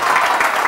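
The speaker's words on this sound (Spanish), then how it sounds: "Un aplauso para David" A studio audience on a TV show gives a brief, loud burst of dense, continuous applause for a guest, with many hands blending into a steady wash of noise.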